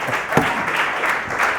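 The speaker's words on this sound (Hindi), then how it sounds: "जोरदार ठोको ताली जोर से।" A church congregation claps loudly in steady, dense applause that fills the whole short stretch, with no voices over it.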